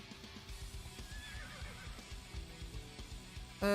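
A horse whinnies in a video game, a rising and falling cry heard over steady in-game background noise, with no talking.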